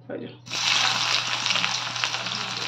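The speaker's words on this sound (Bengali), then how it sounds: "পেঁয়াজটাকে আমি হালকা করে একটু ভেজে নেবো" Sliced onions hit hot oil in a wok (kadai) and burst into a bright, steady sizzle after a brief quiet start, crackling close up over a low electrical hum.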